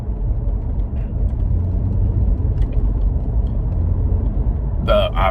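A third-generation 2001 Toyota 4Runner drives along with a steady low road rumble and engine drone throughout, ending with a short burst of brighter noise.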